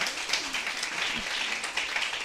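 A crowd applauds with dense, steady clapping throughout, moderately loud, mingled with faint background voices.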